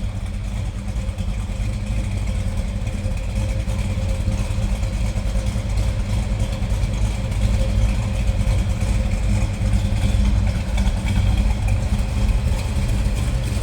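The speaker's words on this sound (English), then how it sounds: "I love the sound of this car." A 1967 Chevrolet Chevelle SS convertible idles nearby, a loud, steady, deep engine rumble with an even burble that holds constant throughout.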